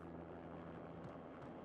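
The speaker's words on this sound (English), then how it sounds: "An armed helicopter just landed on the manor grounds." Armed helicopter on manor grounds in a modded action video game, heard as a low, steady engine drone with a constant hum, fairly quiet and continuous.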